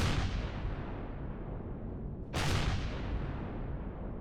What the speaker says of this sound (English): There we saw the secondary explosion.